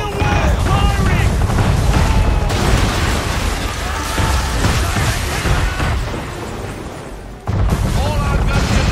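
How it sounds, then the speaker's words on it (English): Man-of-war warship cannons fire in Assassin's Creed 3 during a naval attack, a loud continuous barrage of booms and bursts over a dense battle din, with shouted voices and a sharp renewed blast near the end. "Man of war's firing!"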